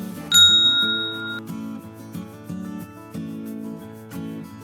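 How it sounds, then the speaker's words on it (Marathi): A bright notification bell chime rings once near the start, a clear ding whose ringing tone sustains for about a second over steady background music. "ही घंटी वाजवा"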